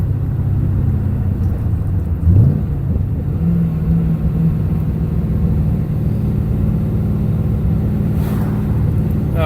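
A car with a Borla exhaust idles with a loud, steady, deep rumble. It gives one brief rev near the start, then settles back into a constant low drone with no talking.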